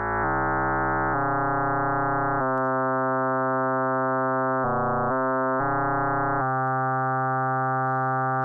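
Sustained FM synthesis tones from a Deluge synthesizer, bright and harmonically rich, stepping through several pitch and timbre changes without pause, loud and steady throughout, with no voices.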